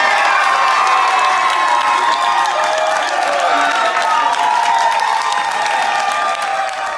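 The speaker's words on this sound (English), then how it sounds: "That cheering you heard were the family and friends and teammates of Bobby Witt Jr." Family, friends and teammates cheer at a baseball draft as a player's name is called, a loud, sustained crowd roar of shouts, whoops and clapping that fades slightly at the end.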